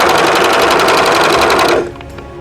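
A sewing machine stitches fabric at a fast steady rhythm, loud and close, then stops abruptly near the end, leaving quiet room noise.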